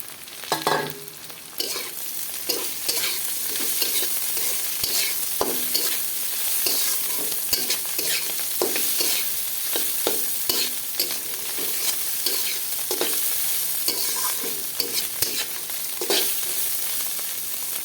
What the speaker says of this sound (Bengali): পেঁয়াজ আমার ভাজি করা প্রায় হয়ে আসছে এখন দিয়ে দেব করল্লা